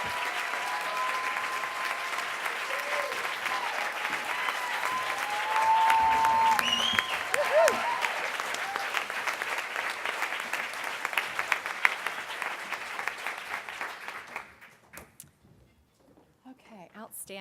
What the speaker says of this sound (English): Another big round of applause as well for all of the Hall of Fame inductees.